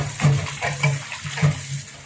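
Water is poured off soaked peanuts while salted peanuts are being made, giving a steady running, splashing flow with a few stronger surges.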